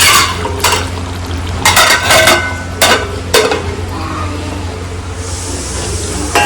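Marinated meat with fried onions sizzles in a pan, a steady frying hiss broken by several sharp scraping and clattering strokes of a spatula stirring against the metal, close and loud.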